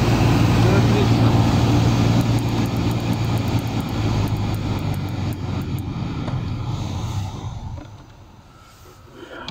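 An Audi A4 B6 heater blower motor running at maximum speed with a steady, loud whirring hum that fades noticeably near the end.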